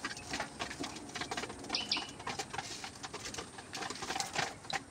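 Pigeons moving about inside a home loft, with soft fluttering wing flaps, scratchy shuffling and faint chirps forming a busy, continuous close-up rustle, no talking.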